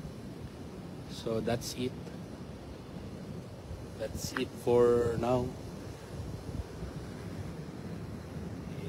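Wind buffets the microphone on a cold, windy spot up high, a steady low rumble running the whole way beneath someone talking in short bursts.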